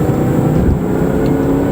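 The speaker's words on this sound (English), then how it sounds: "Barely hear the faint whine of the supercharger" A 2007 Range Rover Supercharged accelerates hard with a loud, dense engine roar heard from inside the cabin, with a faint supercharger whine barely showing through.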